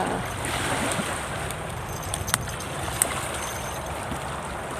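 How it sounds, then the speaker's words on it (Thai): Strong waves churn on Lam Takhong reservoir at a natural fishing spot, a steady, loud wash of water and wind that fills the whole stretch, broken by a couple of brief knocks. "ตอนนี้ก็ คลื่นแรงมากเลยนะ"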